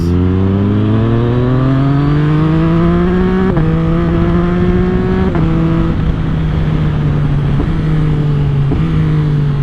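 A 2022 Yamaha MT-09 motorcycle engine with a new ECU tune, loud and close, its pitch climbing steadily then holding high with several brief dips between blips.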